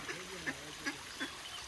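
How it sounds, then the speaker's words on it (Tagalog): A duck quacks four times in a steady rhythm, each quack short and nasal, fairly close, over a soft background hiss. "Ito naman, kakaibang pato"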